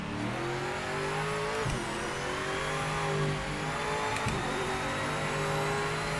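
Race car in Project Motor Racing on the Interlagos circuit in Sao Paulo, its engine loud and close, holding a steady roar as revs climb, with brief dips at gear changes.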